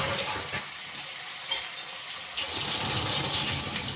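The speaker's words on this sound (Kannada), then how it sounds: "ಮಮ್ಮಿ ಫಸ್ಟ್ ಕರ್ಬೇವು ಬ್ಯಾಡಿಗೆ ಮೆಣಸಿನ್ಕಾಯಿ ಹಾಗೆ ಕರಿಬೇವನ್ನ ಒಗ್ಗರಣೆ ಕೊಡ್ತಾ ಇದ್ದಾರೆ" Curry leaves and green chilies tempering in butter in a pan on a home stove, a steady bright sizzle and crackle lasting throughout, with a few louder pops and spatters, no talk.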